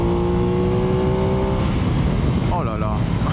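An Aprilia Tuono 660 Factory motorcycle engine revs loudly and steadily with a droning tone, and its pitch rises sharply near the end as it accelerates.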